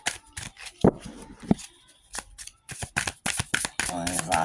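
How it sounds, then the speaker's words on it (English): Tarot cards are shuffled in quick riffling bursts, a dry papery flutter that repeats several times at close range. "shuffle the cards right quick."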